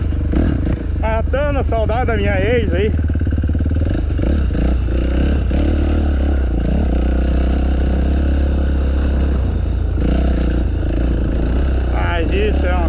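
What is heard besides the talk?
dirt bike motorcycle on a trail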